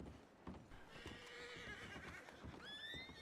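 A horse whinnies loudly in a video game, with a high rising neigh near the end over clopping hooves and a busy ambient background.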